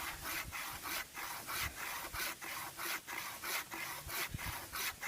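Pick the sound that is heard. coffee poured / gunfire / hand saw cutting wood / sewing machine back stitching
hand saw cutting wood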